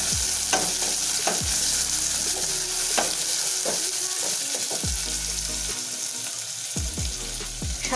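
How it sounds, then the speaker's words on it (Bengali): Chopped onions sizzling in hot oil for a Bengali Sonali chicken curry, a steady loud frying hiss broken by repeated clanks of a spoon stirring against the pan. "পেঁয়াজ কুচি ছেড়ে দিলাম তেলে।"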